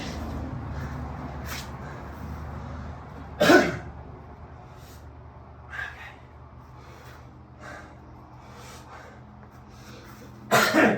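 A man with a dry throat coughing during a calisthenics workout, giving a few short, sharp coughs spaced apart with quiet breathing in between.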